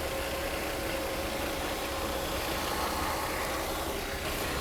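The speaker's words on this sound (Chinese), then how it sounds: "我们来看它的怠速稳定性" A Mercedes R129 300SL engine idles smoothly after a fuel distributor overhaul, a close, even mid-pitched hum with light mechanical ticking that stays constant, with nobody speaking.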